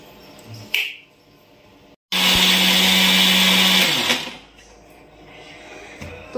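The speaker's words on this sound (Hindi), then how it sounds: "इन सब चीज़ों को एक साथ मिक्सर में डाल के हमें पीसना है" A kitchen mixer grinder runs on a batch of mixed baby food ingredients, grinding loudly and steadily for about two seconds before winding down, with a short snap-like click beforehand and a quiet background otherwise.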